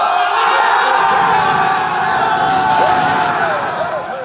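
A packed stadium crowd roars and yells in celebration as the Maryland Terps win the 2018 men's college soccer national championship. The cheering is loud and sustained, with shouts rising over a dense wall of noise throughout.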